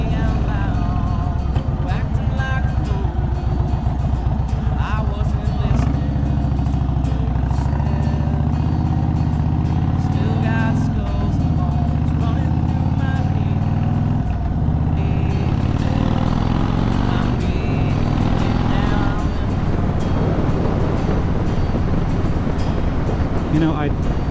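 A motorcycle cruising on a road near Red Top Mountain and Cartersville, engine droning steadily with shifting pitch as it accelerates and eases, wind rush underneath, loud and close throughout.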